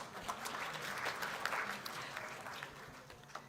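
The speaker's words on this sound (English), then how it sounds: "please clap." Conference audience at the 18th International Congress on Thermal Analysis and Calorimetry applauding as award names are read, steady dense clapping throughout at moderate distance, with a few sharper claps standing out.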